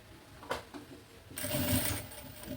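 A domestic sewing machine stitching a safety seam around a fabric maternity bag, a steady close mechanical whir that starts after a couple of light clicks and runs continuously to the end.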